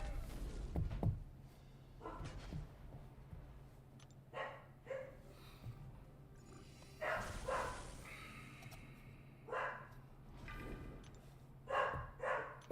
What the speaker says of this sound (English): I apologize about the dogs barking.